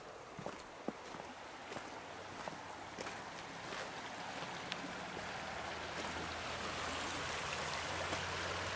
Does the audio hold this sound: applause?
no